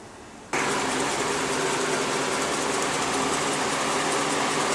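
A small engine is started and keeps running after a spark plug and coil check, kicking in abruptly from quiet to a steady, loud buzzing drone that holds without change.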